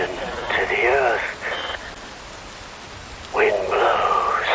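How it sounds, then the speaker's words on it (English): Steady rain falls in a Metal Gear Rising: Revengeance cutscene, a constant wash of noise running throughout while a voice speaks over it in two separate stretches. "Wind blows, rain falls."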